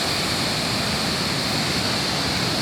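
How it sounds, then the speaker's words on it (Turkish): Çetmi waterfall near Taşkent, Konya, swollen with March snowmelt, roars as a dense, loud, unbroken rush of falling water, steady and close throughout with no voices. "Mart ayının yüksek kesimlerde kar erimeleri şelaleyi coşturmuş durumda."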